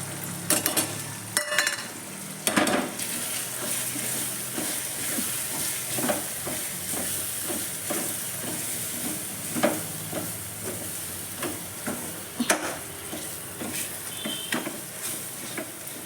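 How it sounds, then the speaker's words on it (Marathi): Pav bhaji vegetables with softened tomatoes fry as pav bhaji masala and other spices go in. A steady sizzle runs throughout, with repeated spoon scrapes and clanks against the pan, loudest near the start, and no speech. "आता आपण मसाले टाकून देऊ"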